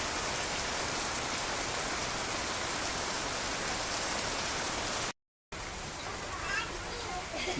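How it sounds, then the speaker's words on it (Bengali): Heavy rain pours down steadily on a village, a dense continuous hiss of drops hitting the ground close by, briefly cut off by a gap before resuming. "এই প্রথম জোরে বৃষ্টি নামলো"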